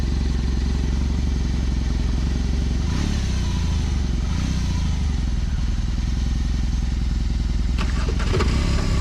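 A 2022 BMW R18 boxer-twin motorcycle runs at a loud, close, steady idle, its deep low rumble continuous throughout, with a few faint clicks and clatters near the end.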